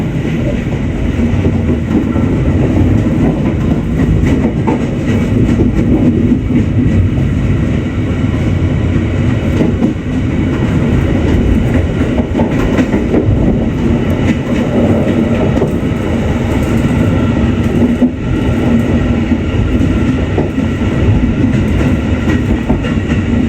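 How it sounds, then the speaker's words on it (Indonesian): Motis Utara passenger train rolling along the rails toward Rangkasbitung and Cilegon, a steady loud rumble with continuous clickety-clack of wheels over rail joints, heard from on board with no talk. "kereta api saya Motis Utara belok ke kanan mengarah ke Rangkas Bitung, kemudian lanjut sampai stasiun Cilegon"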